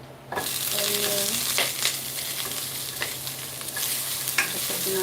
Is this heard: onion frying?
yes